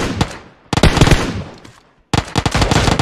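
Bursts of rapid automatic gunfire in PUBG Mobile on the Miramar map, loud and close, in two volleys separated by a short pause, with no speech.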